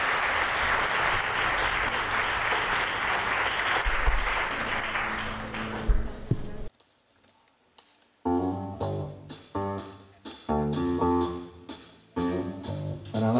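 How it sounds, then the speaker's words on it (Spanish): An audience at a music-for-equality concert in Chiclana gives dense, steady applause for the singer. The applause ends abruptly and is followed by a short pause, then plucked musical chords. "Fuerte aplauso para él."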